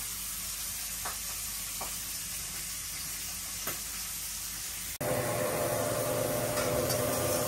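Potatoes fry in oil with green chili, turmeric, coriander and cumin powder, giving a steady close sizzle with occasional stirring clicks that grows louder and denser about two-thirds of the way through.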